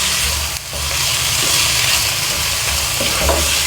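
Potatoes and tomatoes cooking in a pan over a low flame give a loud, steady sizzling hiss up close, with a few faint stirring scrapes underneath.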